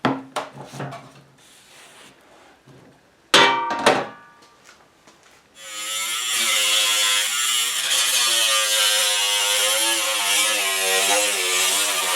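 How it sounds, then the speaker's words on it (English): A small belt sander grinds down metal on a Chevy C10 fender during rust repair, starting after a few clicks and handling knocks and then running as a continuous, close, buzzing whine. "Got my little belt sander deal out here."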